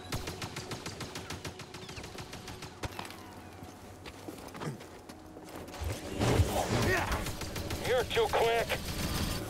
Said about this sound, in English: Did he miss all of those shots with a Gatling gun?